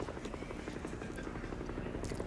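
Helicopter in the video game Dead Rising, a steady rhythmic rotor chop with a whirring buzz, continuous and fairly loud with no talk over it.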